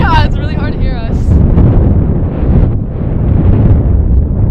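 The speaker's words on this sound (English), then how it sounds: "It's very windy up in Flemington, New Jersey." Strong gusty wind buffets the microphone at an outdoor softball field in Flemington, New Jersey, a loud low rumble that roars throughout, with a voice talking briefly over it at the start.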